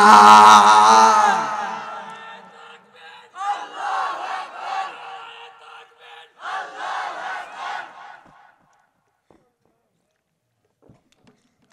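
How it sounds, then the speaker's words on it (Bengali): A large crowd at a religious gathering roars a takbir chant in loud, swelling unison, with several repeated bursts of shouting before falling quiet. "ওরে কারা কারা তোমরা রাজি আছো ভাই হাত তুলিয়া একবার তাকবীর দাও না"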